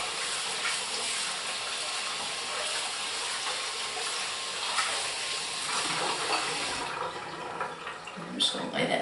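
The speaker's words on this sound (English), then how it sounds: "I'm going to rinse the bowl out and save it for next time" Running tap water pours into a bowl as it is rinsed out after soap making, a steady close splashing hiss that continues throughout and is disturbed toward the end.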